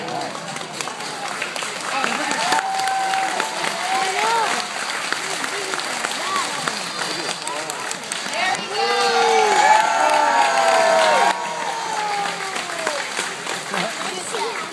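Crowd applause with scattered cheers and whoops at a big-cat park show, steady clapping throughout with voices calling over it and a brief spoken line partway through.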